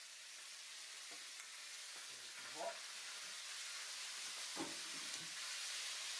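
Steak bought from Lidl fries in a pan with a faint, steady hiss and a few soft crackles, heard at a distance.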